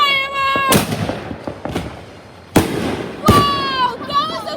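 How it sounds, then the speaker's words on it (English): Fireworks go off at night outside a house with several sharp, loud bangs spaced a second or two apart, some followed by whistling, with voices nearby. "Firework!"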